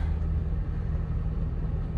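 Steady low engine rumble from inside a moving car, a continuous drone with no distinct events, fairly loud and unbroken throughout.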